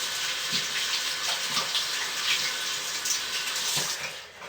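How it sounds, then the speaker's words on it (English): Hands rinsed under a running tap while making hot process soap: a steady, soft hiss of flowing water with light splashing that fades slightly at the end, without any voices. "Bear with me just one moment while I rinse my hands completely."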